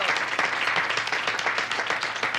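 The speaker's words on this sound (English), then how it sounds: "Another round of applause for these people." Dense applause from a seated audience at a stage show, a steady wash of many hands clapping at once, fairly loud and sustained without letting up.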